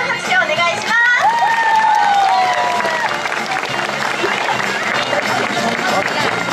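Audience at a Fighters Girl terrace stage show breaking into loud, sustained applause and cheering, dense clapping filling the space while an announcer's voice rises briefly at the start.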